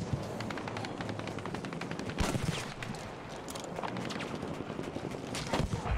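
Rapid machine-gun bursts and scattered gunshots in the shooter game Battlefield V, loud and close, repeating in a dense irregular barrage.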